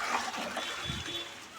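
Water runs steadily into a red pot as the area's morning water supply is collected, giving a soft, continuous trickling pour at low volume with no voices.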